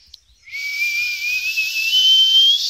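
A voice imitates a pressure cooker's whistle: one long, steady, loud tone that rises slightly in pitch and holds for over two seconds after a brief quiet start, with no talking.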